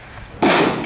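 A .338 Lapua rifle fired at a rock: a single sudden loud blast breaks the quiet partway through and rings out broadly to the end, with no talking.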